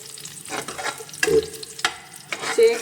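Chopped garlic roasting in a hot pan for palak paneer on medium heat, a steady close sizzle broken by repeated scrapes and knocks of a stirring spoon, with no talking.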